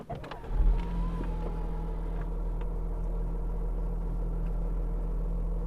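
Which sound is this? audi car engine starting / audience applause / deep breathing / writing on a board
audi car engine starting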